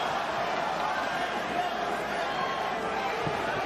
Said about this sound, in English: the crowd reacts to the chant of Loma again